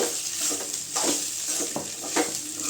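A spoon stirs cooked rice with ground curry leaf powder in a pan, giving soft scraping strokes at a steady rhythm over a faint sizzle, close and clear.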